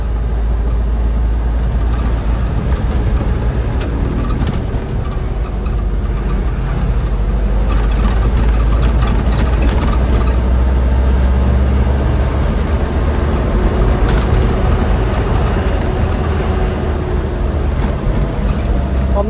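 An Isuzu Elf NHR 55 short truck being driven in third gear, a steady low engine rumble inside the cab mixed with constant wind and road noise, unbroken for the whole stretch.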